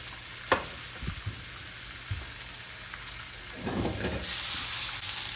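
Onions brown in a thin coating of oil in a pot beside seared brisket, with a soft steady sizzle broken by a few clanks and scrapes, then a louder surge of frying hiss toward the end.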